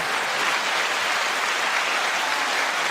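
A short, dense burst of applause from many hands, loud and even throughout, with no voices over it.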